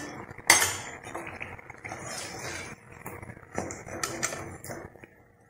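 Fried chandrakala gujhiya are lifted from a pan of oil with metal utensils, giving a sharp clank followed by several lighter scraping clinks and taps against the pan, close and fairly steady, with no speech.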